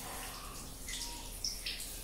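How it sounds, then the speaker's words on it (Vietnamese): Water runs steadily over a tortoise during its bath, rinsing soap from its shell; a soft continuous trickle and splash with a few brighter drips, close and fairly quiet. "đây là khi mình xả nước cho nó này"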